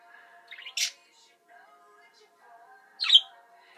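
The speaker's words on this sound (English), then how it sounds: "Yellow bird." A pet yellow bird gives two sharp squawks with faint chirps between them, close and alone in a quiet room.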